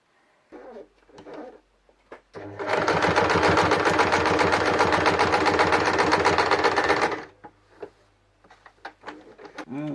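A sewing machine stitches triangular quilt pieces together, running in one steady, loud mechanical burst for about five seconds, with scattered soft handling sounds before and after the run.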